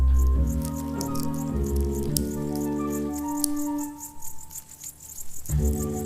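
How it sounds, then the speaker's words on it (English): A male grasshopper flicks its hind legs against its wings, making soft rapid clicks over a steady low hum and faint background tones, with no talk. "He makes it by flicking his hind legs against the wings."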